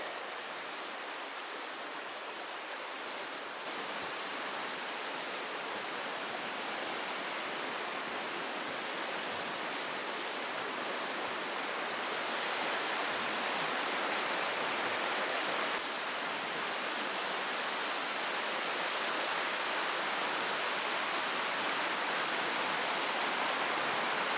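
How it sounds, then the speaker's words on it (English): A river on the Ice Age Trail rushes in a steady, loud broadband roar of flowing water, continuous and close with no voices. "We could just sit here by the river all day."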